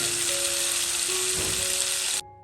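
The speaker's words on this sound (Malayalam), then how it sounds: "ഉമ്മ പുഴമീനിൽ നിന്ന് കുറച്ച് എടുത്തിട്ട് പൊരിക്കാൻ വേണ്ടി വെച്ചിട്ടുണ്ടായിരുന്നു" River fish frying in a pan gives a steady, close, bright sizzle that holds evenly for about two seconds, then cuts off abruptly.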